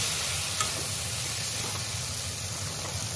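Boiled taro and elephant apple curry ingredients fry in a hot pan, giving a steady close-up sizzle and hiss with faint stirring clicks and no talking.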